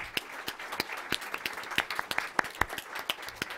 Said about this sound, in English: So if I could have a round of applause for our panelists.